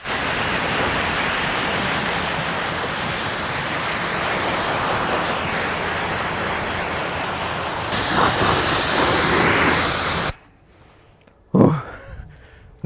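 Water sprays onto a car during a rinse as part of a maintenance wash, giving a loud, steady rushing hiss for about ten seconds before it cuts off. A short thud follows in the quiet.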